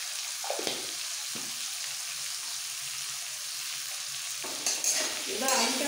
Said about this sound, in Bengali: এবার আলুটাকে একটু ভালো করে গ্যাসটাকে একটু কমিয়ে ঢাকা দিয়ে ভেজে নিতে হবে।